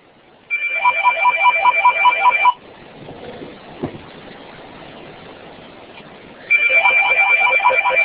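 A telephone rings during a math lesson: two loud, close bursts of rapid electronic trilling, separated by a quieter gap of room noise.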